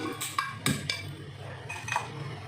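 A heavy cooking pan, set down for a crab and prawn masala, clanks metallically against a stovetop, with a few sharp knocks and clinks near the mic and no talking.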